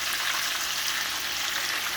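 Fish fillets fry in hot oil in a pot, giving a steady, even sizzle that holds at one level throughout and sounds close, with no voices over it.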